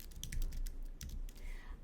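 Close, quick typing on a computer keyboard while entering food into a nutrition-tracking app, a burst of a dozen or so crisp key clicks in an uneven rhythm with a brief pause midway.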